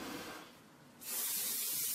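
Hairspray hisses close by, fades briefly, then comes back as a louder, steady burst of spray.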